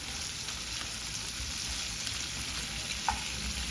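Eggplant being stirred in a pan with salt and curry leaves, a steady close sizzle with faint scraping throughout and one brief sharper clink near the end, no voices.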